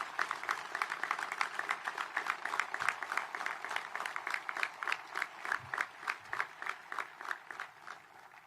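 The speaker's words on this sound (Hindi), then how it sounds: "एक बार अपने स्थान से ही तालियां बजाकर सभी का अभिनंदन करें।" Audience clapping in unison at the inauguration of Subedar Neeraj Chopra Stadium in Pune, a steady rhythmic beat of many hands at a moderate distance, sustained for several seconds.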